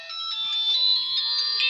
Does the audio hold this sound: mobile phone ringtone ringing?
yes